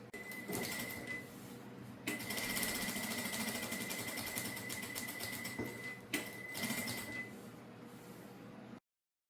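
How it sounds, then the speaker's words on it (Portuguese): Sewing machine stitching a safety seam on fabric and quilt batting, a fast mechanical rattle running in bursts with brief pauses between them and no talk. "nós vamos fazer uma costura de segurança só para prender ele na manta"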